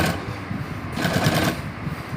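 A sewing machine runs steadily, stitching a border along the edge of a designer bridal lehenga, its continuous motor whir filling the whole stretch with a slight surge partway through.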